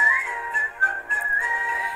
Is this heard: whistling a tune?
yes